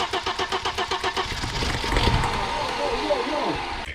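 An Audi running on LPG cranks over and over in a fast rhythmic pulse, then catches into a rough, uneven engine roar that stays loud and close.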